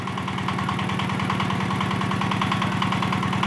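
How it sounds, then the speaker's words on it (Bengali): The engine of a mini concrete mixer lift runs steadily while its hopper rises, a loud, continuous chugging drone with a fast regular pulse and no talking. "তো দেখতে পাচ্ছেন কত স্মুথলি আমাদের যে হপার রয়েছে উঠছে"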